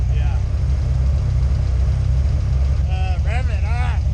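A car engine idles with a deep, steady rumble at a race track, close and loud throughout, while people speak briefly over it toward the end.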